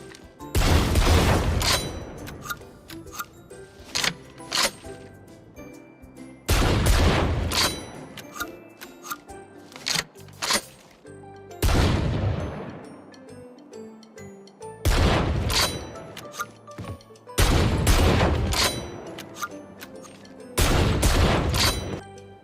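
Outlaw sniper rifle from the video game Valorant firing six heavy, booming shots spaced a few seconds apart, each a sharp loud crack followed by a ringing tail and mechanical reloading clicks between.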